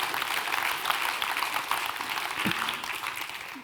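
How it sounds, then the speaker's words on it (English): Applause from a conference audience at a creative keynote event, a steady dense wash of clapping that carries on at even loudness for the whole stretch with no talk over it. "Give yourselves a round of applause."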